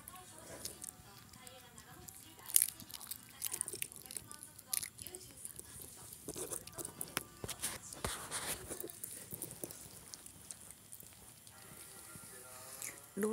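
Someone chews small pieces of food, making soft, faint, repeated mouth and biting sounds that continue throughout, with quiet voices speaking in the background.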